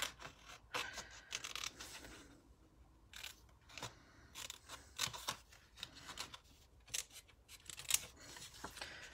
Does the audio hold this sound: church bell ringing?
no